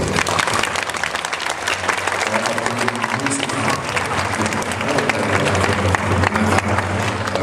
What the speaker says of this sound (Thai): ขอเชิญปรบมือ